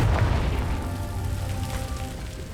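A low, rumbling explosion from the Confringo blasting spell in Hogwarts Legacy, a single heavy boom that decays over a couple of seconds with no speech over it.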